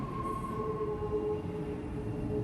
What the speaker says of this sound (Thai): รถไฟใต้ดินค่ะ รถไฟใต้ดิน